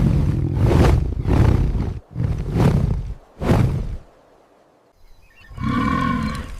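A lion roars at night on the African savannah, three deep, powerful, close roars in rhythmic succession, followed by a pause and a brief faint rustle before another loud, rough burst.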